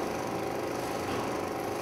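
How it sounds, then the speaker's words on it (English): An old, failing electric drill used for sanding runs continuously with a steady, rough motor whir and gritty abrasive noise, close and even throughout. "But I love this drill, but it's dying"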